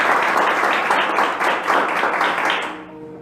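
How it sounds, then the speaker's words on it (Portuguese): A church congregation claps loudly and continuously for about three seconds, a dense, steady wash of applause that fades toward the end as a faint tone emerges. "Dê um aplauso bem forte ao nosso Deus."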